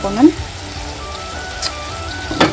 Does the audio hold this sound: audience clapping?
no